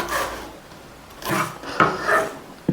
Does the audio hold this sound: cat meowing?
no